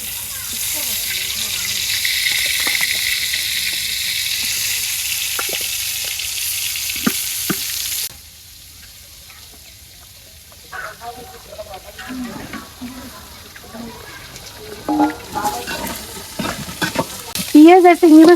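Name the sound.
eggplant frying in oil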